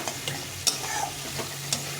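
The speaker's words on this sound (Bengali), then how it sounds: "দিয়ে একটু হালকা করে ভেজে নেব, মশলার সঙ্গে কষিয়ে নেব।" Shelled green peas stir-fried with spices in a kadai give a brief, close, continuous frying sizzle broken by a few light stirring scrapes, with no voices.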